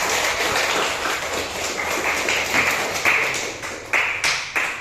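A school class applauds together in a classroom, a dense spread of hand claps that holds steady, then breaks into a few louder separate claps toward the end.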